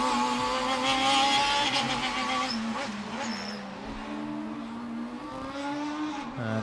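A Formula Student race car with a four-cylinder engine runs an endurance event on track, its engine note climbing and falling as it passes, fairly loud then easing off.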